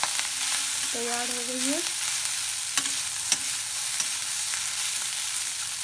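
Poha is stirred and mixed in a pan with the gas switched off, giving soft, faint scraping and rustling strokes. A voice speaks briefly near the start.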